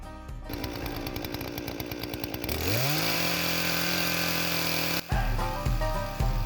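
A chainsaw makes the first cut into a log for an off-grid island log cabin wall. It idles with a rapid chatter, then revs up to a loud, steady whine, followed by a few heavier surges as the chain bites into the wood.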